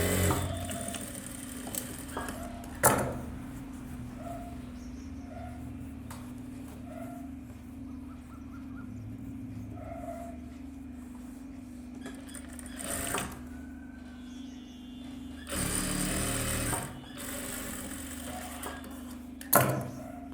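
A sewing machine stitches a silk skirt lining, running with a steady hum and soft mechanical ticking, broken by a few louder clacks and short pauses between runs.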